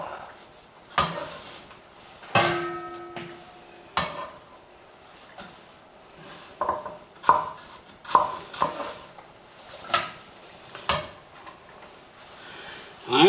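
A knife slices an apple thinly on a cutting board, giving a series of sharp, close taps at an uneven rhythm with short pauses between cuts and a few louder knocks.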